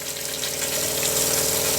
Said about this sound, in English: we're going to do a test now of the pump and the faucet